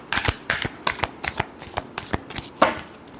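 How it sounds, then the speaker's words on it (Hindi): Tarot deck being shuffled by hand, a rapid run of crisp card riffles and slaps in quick bursts, close and clear with no talking. "लास्ट शफल देखते हैं।"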